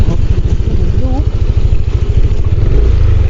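A motorcycle engine chugs loudly and close by in rapid, even pulses as the bike rides along, with a brief voice faintly heard.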